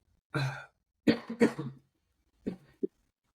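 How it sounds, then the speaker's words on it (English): Several dry coughs, one single then a quick cluster of two or three, and a final pair of short ones after a pause, close and fairly loud with no talking. "No, that's a cough."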